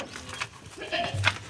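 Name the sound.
goat bleating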